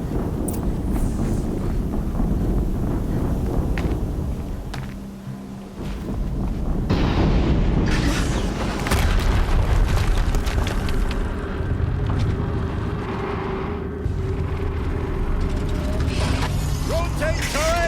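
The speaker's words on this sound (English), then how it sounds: "Another explosion." Explosions and battle rumble in Horizon Zero Dawn during the City of the Sun section, loud booming bursts with a brief lull around five seconds before heavy roaring blasts and wind-like rumble return, with sharp metallic hits late.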